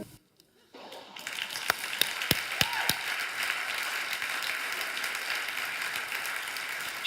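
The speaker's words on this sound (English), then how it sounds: "I hope you can hear the applause" Applause comes through a remote connection during an online student wellness competition, starting after a near-silent moment as thin, somewhat distant clapping with several sharp taps, steady and fairly faint, with a brief voice early on.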